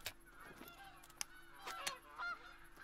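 Canada geese honking as an incoming flock approaches during a goose hunt, several nasal honks overlapping and growing louder, with faint background noise.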